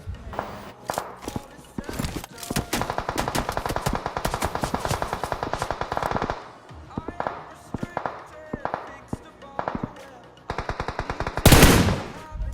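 Rapid automatic gunfire from the mobile battle royale game BGMI (Battlegrounds Mobile India), with dense bursts of shots and scattered single cracks, loud and continuous with a few brief pauses and a sharp blast near the end.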